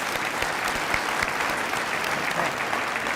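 Applause from the crowd at the 2024 Girls & Women in Sports Luncheon: a dense, even roar of many clapping hands filling the room from start to finish, with a few sharper claps standing out close by.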